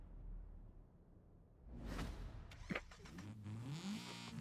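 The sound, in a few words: Mazda Miata car driving in video game Forza Horizon 5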